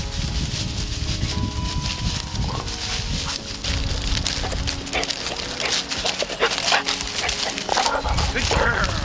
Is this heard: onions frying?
no